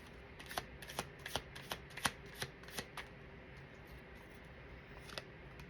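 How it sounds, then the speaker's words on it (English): Tarot cards being shuffled in quick riffles, a series of crisp flutters and snaps with short pauses between, close up and fairly quiet. "Alright, one more shuffle."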